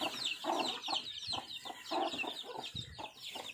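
Chickens cluck in a steady run of short, overlapping calls, with higher chirps from other birds above and no talking.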